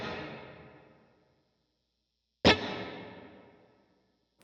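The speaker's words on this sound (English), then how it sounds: "For the reverb, I have actually a hall reverb." Guitar chords played through a hall reverb with a short decay, each strum ringing out and fading over about a second and a half; two strums, then a faint third attack at the very end, no voices.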